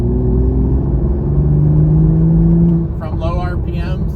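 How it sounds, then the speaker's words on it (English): A 3.0 Toyota GR Supra lugged in a high gear at full throttle from low revs, a loud steady low engine drone with a slowly rising tone, then a voice speaks over the fading engine. "lug the vehicle where you're putting the vehicle in a higher gear and then flooring it"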